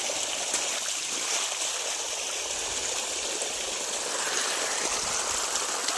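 Irrigation water rushes steadily through a field channel on a farm, a constant, even hiss and gurgle that stays close and unbroken with no voices.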